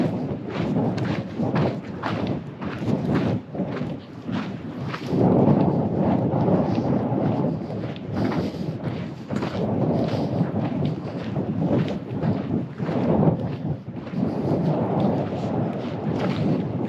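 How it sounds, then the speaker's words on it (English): Strong wind roars across a mountain trail among granite near Half Dome on the John Muir Trail, a loud, continuous buffeting rush that surges and eases without letting up. "It's pretty windy."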